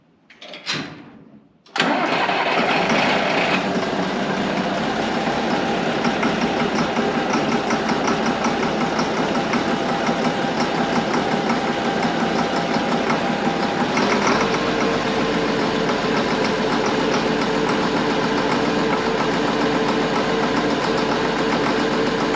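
A dump truck's large diesel engine, with a new exhaust, cranks briefly, then catches and settles into a loud, steady idle with a constant low rumble that continues to the end.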